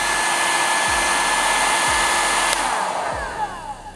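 A Realme hair dryer blows hot air in a steady, loud broadband whoosh that runs alone throughout, with a few faint clicks and a slight drop in level near the end.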